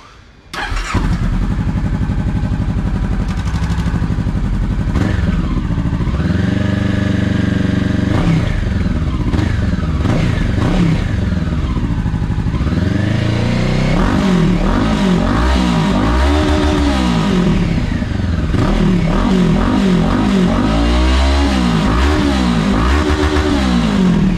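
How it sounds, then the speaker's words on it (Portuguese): Honda CB500X motorcycle exhaust revving loudly and continuously for over twenty seconds, the twin-cylinder engine rising and falling through repeated throttle blips close to the microphone, with no talking over it. "Agora eu vou mostrar o, o escapamento. Espero que o som fique bom."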